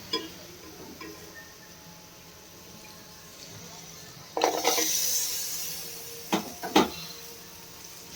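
Three green chillies are stirred into a pan with turmeric. A quiet sizzle hums along, then a few close spoon scrapes and clacks sound against the pan.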